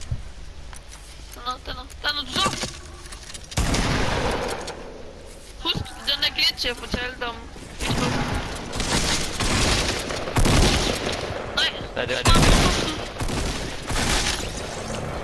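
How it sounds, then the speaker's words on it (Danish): Rocket launcher shots in a Fortnite match ring out as repeated loud booming blasts and bursts of gunfire, with people talking over much of the action. "Rocket launcher skud."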